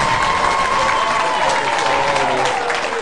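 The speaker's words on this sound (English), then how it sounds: "It looks like you got a great cheering section out here" A studio game-show audience applauding and cheering as a contestant is welcomed, a dense, loud wash of clapping held steady throughout with a few voices rising above it.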